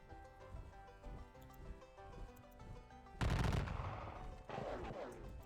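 Gunfire in a Battle of Gettysburg war game, a sudden loud volley of shots crackling in over a faint musical soundtrack, then a second burst moments later.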